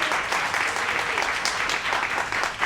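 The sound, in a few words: brief round of applause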